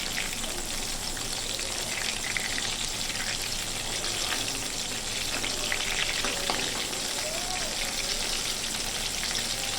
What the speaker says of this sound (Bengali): এইভাবে বাকি সোয়াবিনগুলো আমি অল্প অল্প করে ভেজে নেব।